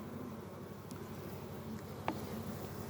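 Honeybees drone in a continuous low, even hum inside a hive being readied for winter, heard close but fairly quiet, with no voices.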